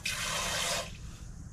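Water pours into a pot to cook rice, a bright rushing splash for under a second that cuts off and leaves a quiet background.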